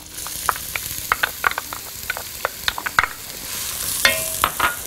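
Chopped onion frying in a spoonful of oil in a pan for potato and corn soup, a steady sizzle broken by sharp scraping and stirring clicks up close, with no talking.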